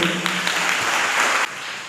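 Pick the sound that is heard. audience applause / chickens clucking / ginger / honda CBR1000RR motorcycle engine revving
audience applause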